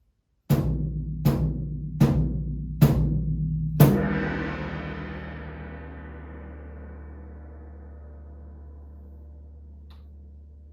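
Taiko-1 electronic drum kit played through a speaker: five loud deep drum hits, four evenly spaced and a final stronger one ringing out in a long booming decay.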